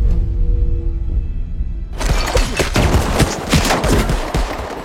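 Dense bursts of gunfire ring out in an action-film shootout, loud and continuous after a quiet opening of low rumble, with overlapping rapid shots like an automatic weapon exchange.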